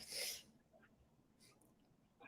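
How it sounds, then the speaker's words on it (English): A single sharp sneeze bursts out at the start, followed by quiet breathing and faint rustling. "I don't know why I'm sneezing so much"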